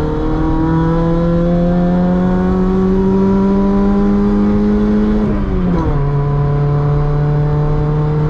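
A Honda EF Civic hatchback's engine roars steadily at full throttle, its pitch climbing slowly, then dipping briefly as if shifting before holding a lower drone.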